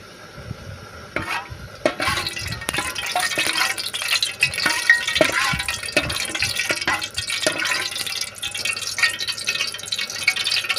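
Curry leaves and oil sizzle and crackle steadily in a hot pan while an egg curry is being made, with occasional stirring scrapes and clinks, close and continuous with no talking.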